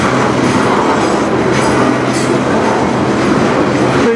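A CN freight train rolls past in Sarnia, Ontario, a loud, steady, close rumble with continuous wheel and car noise throughout.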